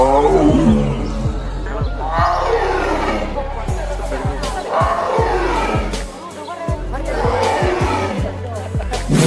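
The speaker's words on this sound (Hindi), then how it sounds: "एक बाघ की दहाड़ इतनी शक्तिशाली होती है कि लगभग 3 किलोमीटर दूर तक सुनी जा सकती है।" A tiger roars in deep, powerful bursts that rise and fall, three long drawn-out roars close and loud over a low rumbling background.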